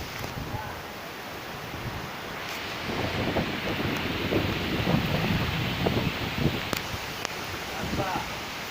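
A strong dust storm in Uttarakhand roars in gusts, building in the middle with rustling debris and rattling, loud and close to the microphone.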